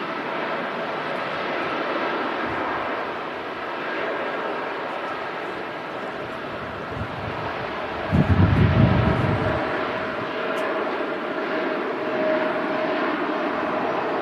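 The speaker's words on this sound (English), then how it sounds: "There goes the TUI Dreamliner heading off to Paphos." A TUI Boeing Dreamliner airliner departing Manchester Airport bound for Paphos, its engines producing a steady distant roar that swells briefly louder midway before easing back into a broad rumble.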